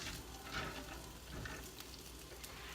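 Red onion frying in a pan while being stirred, a steady close sizzle with faint scraping and shuffling, and no voices.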